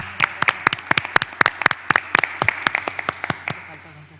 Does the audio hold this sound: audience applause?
yes